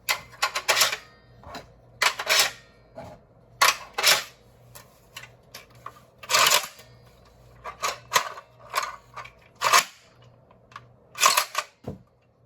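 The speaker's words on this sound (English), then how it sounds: "will put them back into the blaster to just dry cycle a bit." Nerf Breacher prototype shotgun blaster being dry cycled: a series of sharp plastic clacks and ratcheting pump strokes come in irregular bursts, close and clear with quiet gaps between them and no talk.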